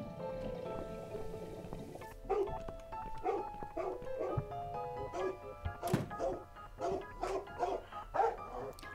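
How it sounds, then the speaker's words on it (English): Dog barking and whimpering in The Cat Lady video game, a run of repeated yelps and barks over a steady background music bed, with bursts coming in irregular clusters at moderate loudness. "Your dog is making horrible noise."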